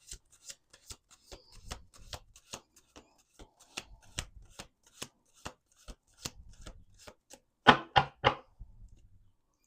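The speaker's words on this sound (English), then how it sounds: "Last shuffle." Tarot cards being shuffled by hand make a run of crisp, rhythmic slaps and riffles close to the listener, ending in a louder quick burst of card snaps.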